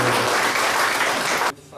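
Applause from an audience at a tribute event on Faial Island in the Azores, greeting a singer: a loud, dense wash of clapping that cuts off abruptly near the end.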